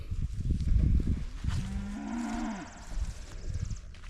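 Cattle on a farm where a short fence post line keeps the cows in, one drawn-out low moo rising and falling near the middle, fairly close, over rustling outdoor noise.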